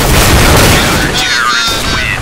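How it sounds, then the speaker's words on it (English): A flashbang grenade in a video game goes off as a loud, broad boom at the start that rumbles and fades, with voices talking over the tail. "Deploying flashbang."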